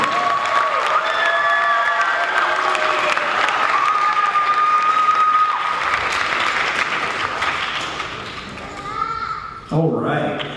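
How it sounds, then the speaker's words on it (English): Audience applauding at a jazz band concert, a dense sustained clapping that stays loud for most of the stretch before tapering off near the end, with a few voices and scattered cheers mixed in. "another round of applause for Mr. Ethan Garcia"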